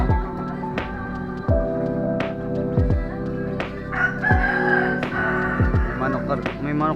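A rooster crows repeatedly at a home yard with fighting cocks, while chickens cluck steadily around it; crows come loud and near, with several overlapping bursts across the stretch.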